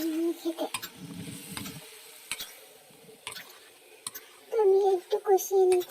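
Spice masala sautéing in hot oil for a chicken curry, with soft sizzling, scattered clicks and scrapes of a stirring spoon against the pan, and intermittent tonal background sounds over a steady low kitchen hiss.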